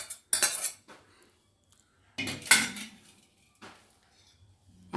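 A metal strainer pours soaked sago into a pot of milk, making two sharp bursts of clinking and scraping metal against metal, separated by quiet, with a few faint taps afterwards.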